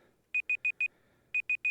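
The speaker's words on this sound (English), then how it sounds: "you guys aren't supposed to hear that timer" Game timer beeping near a Famicom-era Backgammon cartridge: two bursts of clear, evenly spaced electronic beeps, four then three, loud and sharp over near silence.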